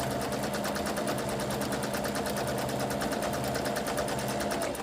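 A sewing machine stitches quilt blocks in a steady, fast, even whir with rapid needle pulses, running continuously at moderate closeness without any talking.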